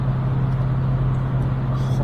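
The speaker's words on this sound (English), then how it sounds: "You can tell he was absolutely gunning up with that 2-litre. He was absolutely gunning it." A 2-litre Honda car accelerating hard nearby: a steady, loud low engine drone holding constant, heard from inside a moving vehicle with road rumble, no talking.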